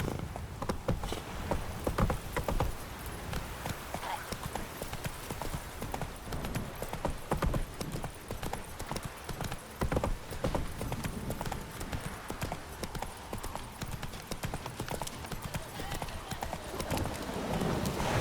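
Hooves of a horse ridden in The Witcher 3 clip-clop steadily at a quick, even gait, a continuous rhythmic patter at moderate level with faint game ambience beneath.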